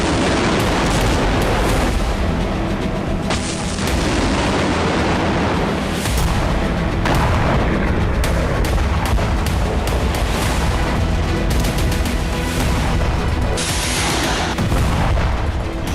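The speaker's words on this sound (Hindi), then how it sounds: "अब यहां अटैक एमएस और स्टॉर्म शैडो से धमाके हो रहे हैं" Missile strikes from ATACMS and Storm Shadow produce loud, continuous booming blasts and rumbling explosions in a war setting, dense and overlapping with no voices.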